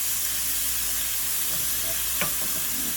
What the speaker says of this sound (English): Okay, stir fry it.